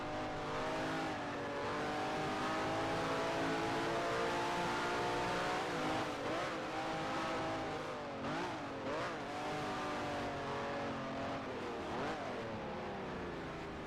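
A race car engine in a sim racing game revs hard and steady, its harmonic drone climbing and dipping through gear changes and throttle blips, loud and continuous with no talking.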